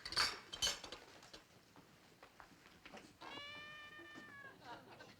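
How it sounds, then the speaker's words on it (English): A cat meows from inside a wall in a sitcom scene: a drawn-out, wavering meow rises partway through, following quieter clatter and soft room noise. "I think it's a cat."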